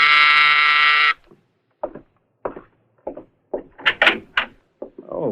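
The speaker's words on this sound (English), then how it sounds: "Mike is in his apartment when the door buzzer sounds" An apartment door buzzer in a radio drama sounds once, a loud harsh tone about a second long, followed by voices talking.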